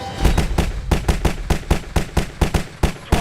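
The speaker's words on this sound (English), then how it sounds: "shots fired, officer involved" A rapid, evenly spaced volley of about fourteen loud, close gunshots from a police shooting scene in a film, each sharp crack following the last without pause and with no voices.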